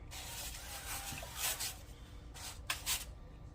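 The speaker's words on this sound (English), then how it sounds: "I'm getting ready to spray them" A few short hissing bursts of cooking spray onto potatoes in a pan, close by, with quiet pauses between them against a low background hum.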